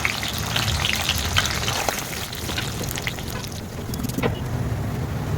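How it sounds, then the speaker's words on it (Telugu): Dry red chillies, urad dal, cumin and mustard seeds sizzle in hot oil with a steady, busy crackle and scattered pops, close and moderately loud, with no talking. "ఇదిగోండి ఎండుమిర్చి మినప్పప్పు జీలకర్ర ఆవాలు వేసుకుంటున్నా"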